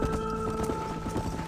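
Horse hooves clip-clop at a steady trot in the Red Dead Redemption video game while herding cattle, a continuous close rhythm under tonal music for the whole stretch.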